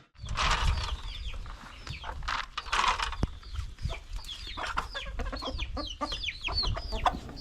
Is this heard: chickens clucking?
yes